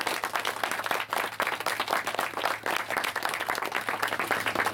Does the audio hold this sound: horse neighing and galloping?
no